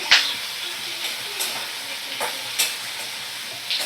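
Eggplant and potato pieces fry over medium flame in a pan, a steady close sizzle broken by several sharp scraping stirs spaced a second or so apart, with no one speaking.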